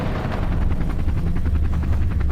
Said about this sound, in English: The sound of a helicopter is very ASMR.